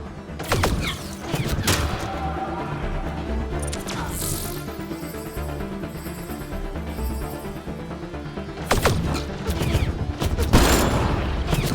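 Bursts of gunfire from the Mass Effect video game, with sustained dense shooting and booming impacts through most of the stretch, loud and near, louder flurries at the start and end, and brief game voice lines mixed in.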